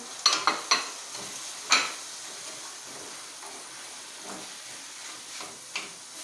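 Two chopped tomatoes tipped into a hot pot with onions, a few sharp clinks and thuds, followed by a soft, steady sizzle and occasional stirring scrapes.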